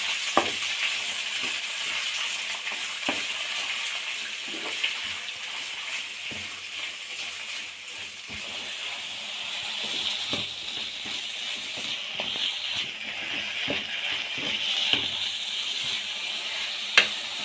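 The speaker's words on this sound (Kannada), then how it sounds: "1 ಬೌಲ್ ಹಸಿ ಬಟಾಣಿ ಹಾಗೂ ಮೆಂತ್ಯ ಸೊಪ್ಪು ಹಾಕ್ಕೊಳ್ಳಿ. ಗ್ಯಾಸ್ ಮೀಡಿಯಂ ಫ್ಲೇಮಲ್ಲಿ ಇಟ್ಕೊಂಡು 3 ರಿಂದ 4 ನಿಮಿಷ ಹುರ್ಕೊಳ್ಳಿ." Fresh green peas and fenugreek leaves fry in a pan over a medium gas flame, giving a continuous sizzle with scattered soft stirring clicks and scrapes throughout, close and steady with no talking.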